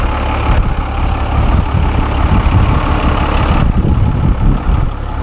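A 2000 Chance Trolley AH-28, a 27-passenger trolley bus, idles with a loud, constant rumbling engine heard close by, its broad roar steady throughout with no voices.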